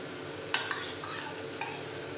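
Paneer cubes go into a hot cooking pan for a matar paneer dish, with a soft sizzle under a few sharp scrapes and clinks of a spatula stirring against the pan.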